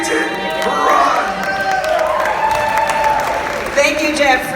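A Six Flags Over Texas audience claps and cheers at the reveal of a giga dive roller coaster, with steady, dense applause holding throughout, while a voice talks over it.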